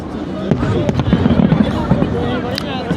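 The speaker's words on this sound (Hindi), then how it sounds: "ये फायरवर्क्स जो हैं वो नए साल की आमद की खुशी में हैं" New Year's Eve fireworks over London crackle and pop in a dense, fairly close barrage with sharp bangs, while someone talks over them and a crowd murmurs.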